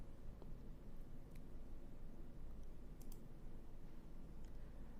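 A computer mouse clicks while someone uses an AI image generator: a handful of sparse, sharp clicks over a steady low hum, with no speech.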